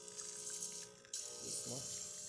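Breville espresso machine pump building pressure, a continuous low mechanical hum and buzz with watery gurgling that shifts partway through, heard up close at low level.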